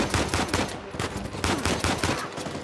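Rapid bursts of gunfire strike the player character in Uncharted 4, dense and loud, with repeated volleys that rise and fall across the whole stretch.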